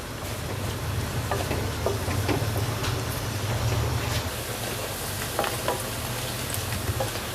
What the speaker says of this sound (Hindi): अब इसमें सबसे पहले मैं प्याज डालूँगी और तेज़ आंच पर इसको मैं थोड़ा सा फ्राई करूँगी।